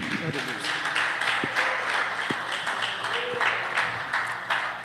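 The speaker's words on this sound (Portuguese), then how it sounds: "Palmas para Jesus, igreja." A church congregation applauds in a steady, dense wash of clapping that runs the whole time, with a preacher's voice speaking over it.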